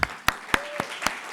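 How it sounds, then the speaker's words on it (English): Audience applause after remarks about a Buddhist organization's accredited chaplaincy training, a steady wash of many hands with a few sharper claps rising out of it, close and fairly loud. "That actually deserves an applause."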